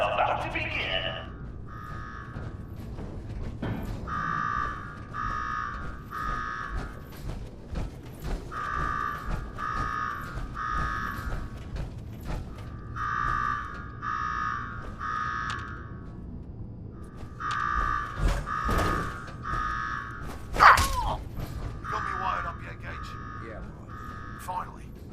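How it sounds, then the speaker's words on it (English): Repeating buzzing alarm in the Fallout 4: Nuka-World game, sounding in steady bursts of pulsed tones with short gaps, over game sounds with talk at times. "Now go shut off that damn alarm."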